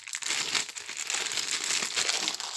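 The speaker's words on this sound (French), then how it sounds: "je vais la déballer" Plastic and cardboard packaging of new equipment crinkling and crumpling close by as it is unwrapped, a continuous busy rustle with no speech.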